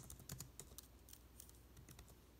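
Quiet, rapid typing on a computer keyboard, a steady run of light key taps close by with no voices.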